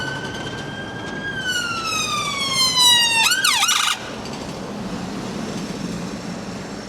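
An ambulance siren passes along a street, its loud wailing tone sweeping and then dropping sharply in pitch as it goes by, then fading away under steady traffic noise.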